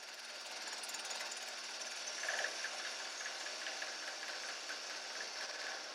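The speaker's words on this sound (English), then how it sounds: "At some point I noticed I was getting a lot of vibration and realized the jaws of the chuck needed some tightening." A wood lathe turning a burl lidded box rattles and vibrates steadily from loose chuck jaws, a faint continuous buzzing hum with a brief louder stretch midway.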